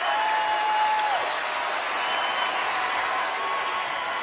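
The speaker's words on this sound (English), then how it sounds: "And the crowd on its feet." A home crowd at a college men's basketball game, UConn at SMU, stands and applauds with cheering, a broad, steady roar of clapping filling the arena, with a whistle-like tone briefly audible.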